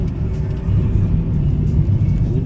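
A car accelerating during a city driving lesson in Khabarovsk, with a steady low engine rumble and road noise that swells slightly after the first half second and holds throughout.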